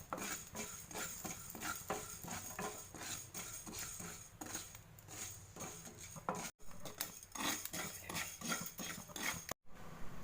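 Fenugreek seeds roasting in a hot pan for mango pickle are stirred and scraped with a spoon, giving close, steady, rhythmic clinks and scrapes with brief pauses.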